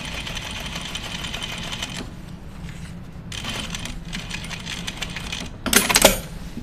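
A sewing machine stitches denim for a pair of jeans in fast, buzzing runs broken by short pauses, ending with a louder rattling burst; no voices are heard.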